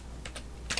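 A computer keyboard is tapped while a terminal command is entered: a few soft, close keystrokes with a quick pair near the end, over a faint steady hum.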